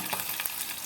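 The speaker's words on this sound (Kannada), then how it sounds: "ಸಾಸಿವೆ ಚಟ್ಪಟ ಹೇಳ್ತಾ ಇದೆ. ಒಂದು ಹಸಿಮೆಣಸು ಹಾಕಿ, ಕರಿಬೇವು," Mustard seeds, green chili and curry leaves splutter in hot oil with a steady, close crackle and scattered sharp pops and no voices.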